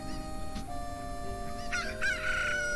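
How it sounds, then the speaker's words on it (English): Cuccos crow in The Legend of Zelda: Ocarina of Time, a couple of rising, wavering game-sound crows layered over a steady background music drone, with no talking. "An army of chickens are going to come and kill me now."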